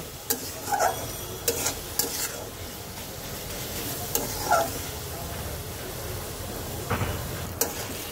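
Close, constant sizzle of onions and spices frying in a pan for a mung dal with catla fish head, with occasional spatula scrapes and clacks every second or two and no voices.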